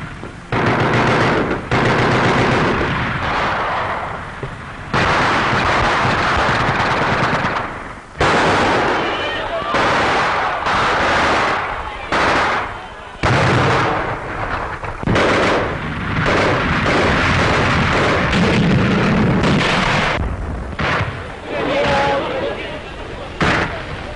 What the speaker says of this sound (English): A tank and machine gun skirmish was waged at the foot of the Eiffel Tower.